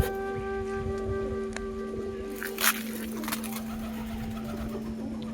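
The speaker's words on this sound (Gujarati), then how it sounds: "મોટર થઈ ગઈ છે ચાલુ" A farm water pump motor runs steadily with a constant droning hum and tonal whine, a brief splashing surge of water rising in the middle, with no talking.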